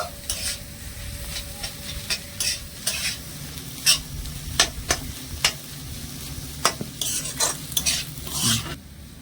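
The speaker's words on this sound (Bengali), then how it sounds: "এই আলু সেদ্ধটা ভালো করে মিশিয়ে নেব" A spoon stirs and scrapes through thick mashed boiled potato in a pan, with irregular repeated strokes over a faint, steady sizzle. No voices.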